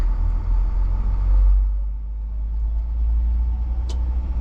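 A bus with no air conditioning idles steadily from inside the cabin, a low, even engine rumble holding throughout with one brief click near the end.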